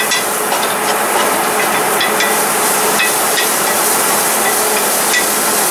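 Sausage fries in a pot for bean soup as its grease cooks out, giving a steady, dense sizzle with small scattered pops and clicks and no talking.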